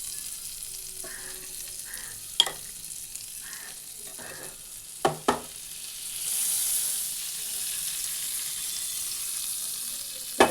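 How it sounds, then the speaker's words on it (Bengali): Butter melting in a hot frying pan gives a soft continuous sizzle, with a few sharp utensil clicks on the pan partway through and the frying swelling slightly louder later on. "একটা ফ্রাই প্যান বসিয়ে দিয়েছি আর এর মধ্যে প্যানটা গরম হয়ে গেছে"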